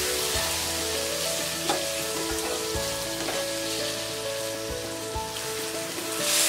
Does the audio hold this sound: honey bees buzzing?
no